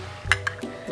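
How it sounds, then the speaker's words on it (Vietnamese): Spoon stirring salted egg yolk sauce with two tablespoons of water in a bowl, giving a few light clinks and taps against the dish, close and fairly quiet. "Rồi mình khuấy cho tan"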